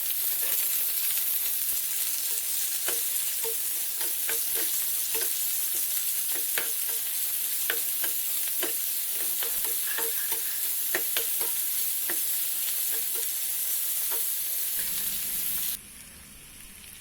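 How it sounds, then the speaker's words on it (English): Pulao ingredients fry and get stirred in a pan, a steady loud sizzle with repeated scraping clicks of a utensil against the pan, ending as the sizzle drops away near the close. "Let's fry until it gets golden color."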